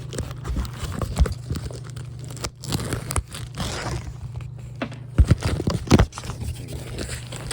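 Packing tape is scraped and cut with keys, making crinkling, rasping sounds, ending in a couple of sharp, loud rips up close.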